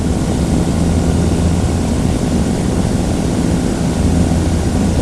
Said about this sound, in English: Cessna going underneath us with its flag up